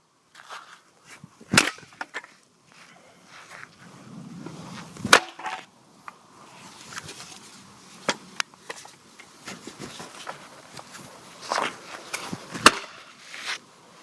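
A baby toy found by the roadside being smashed: scattered sharp cracks and snapping impacts, a few loud, others faint, with crunchy rustling between them and no talking.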